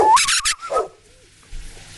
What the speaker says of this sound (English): At a sign from Napoleon, the dogs expel Snowball from the farm.